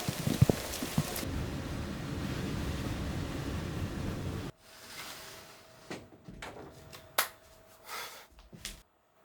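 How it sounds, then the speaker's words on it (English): Heavy rain pours down on Aogashima, a remote volcanic island of Tokyo. A dense, loud hiss fills the first half, then cuts to a quieter wash broken by scattered close taps and drips. "This is not great. It's so much rain."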